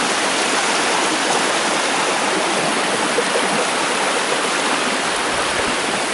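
Waterfall and stream on Clench's Brook, a steady broadband rush of falling and flowing water, loud and unbroken throughout with no other sounds.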